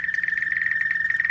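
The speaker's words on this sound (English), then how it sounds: "You hear the frogs?" Frogs croak from a garden pond in a quick, even series of nearby chirping pulses, loud and clear, with no voices over them.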